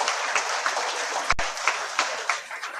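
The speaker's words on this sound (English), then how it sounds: "Please give them a round of applause." A school audience applauds students after their performance at a primary school annual day, with brisk clapping in close, quick rhythm and a sharp thump partway through.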